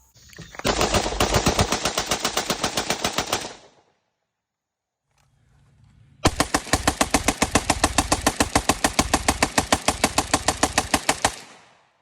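A Kalashnikov USA KR103 rifle fires two long, fast strings of loud, closely spaced shots, separated by a short quiet pause. No one speaks.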